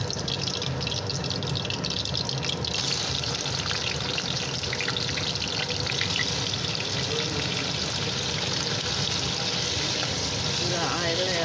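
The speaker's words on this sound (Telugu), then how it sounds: "ఫ్రెండ్స్, ఈ విధంగా వేసేస్తున్నా పన్నీర్." Paneer cubes frying in oil in a pan for a capsicum and paneer curry, a steady, loud crackling sizzle that runs continuously throughout with no voices over it.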